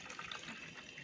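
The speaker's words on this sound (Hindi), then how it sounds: "इसमें ऐड कर दो पानी" Water pours steadily into a plastic sprinkler bottle, a soft continuous splashing rush heard close and quiet throughout, with no talking.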